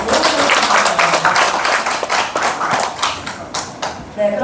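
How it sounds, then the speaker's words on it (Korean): An audience at a Jeonju–Wanju debate forum claps steadily, with dense, bright clapping that fades slightly before ending. "여러분 박수로 부탁드립니다."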